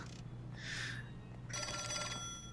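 A telephone rings in the LA Noire video game, a bright electric bell tone sounding in two bursts with a short gap between them, loud and close over low background hum.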